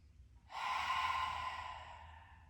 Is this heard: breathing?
yes